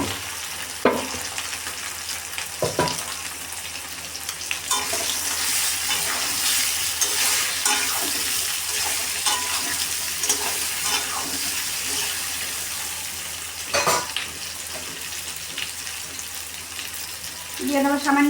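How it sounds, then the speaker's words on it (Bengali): Potatoes sizzle in hot oil seasoned with bay leaf and dried red chilli, a sustained hiss with a few sharp clatters and scrapes of stirring spaced through it. "এখন এর মধ্যে আমি আলুগুলো ঢেলে দেব।"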